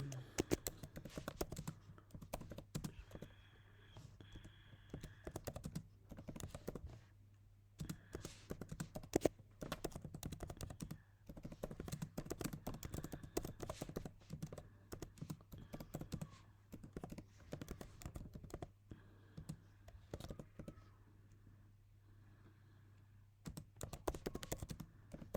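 Typing on a computer keyboard, with quiet clicking keystrokes in irregular bursts and short pauses, faint and close, continuing for a long stretch with no talk.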